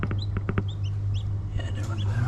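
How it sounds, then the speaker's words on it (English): Peking bantam chickens, small feathered-legged fowl on a farm, give short clucks and chirps near the microphone over a steady low hum, with a few brief bird calls scattered through. "So they're Peking bantams, so they should have furry legs."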